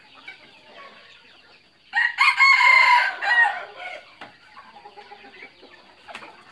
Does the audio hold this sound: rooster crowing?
yes